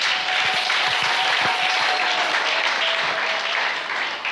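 A church congregation applauding loudly at a worship service, with continuous dense clapping throughout and a faint voice beneath.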